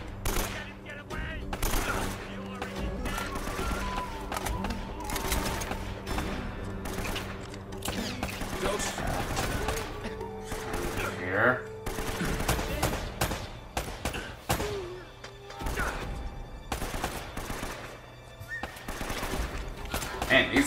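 Gunfire in an Uncharted firefight crackles in dense, repeated volleys and scattered shots over busy game sounds, moderately loud and continuing throughout.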